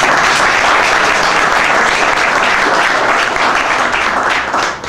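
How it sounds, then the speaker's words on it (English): Loud, dense applause from a concert audience at the Nash fills the room for the band, a continuous wash of clapping and cheering that holds steady before fading slightly at the close. "A round of applause to you guys."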